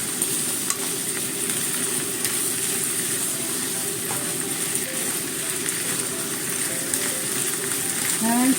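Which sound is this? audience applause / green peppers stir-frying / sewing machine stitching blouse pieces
green peppers stir-frying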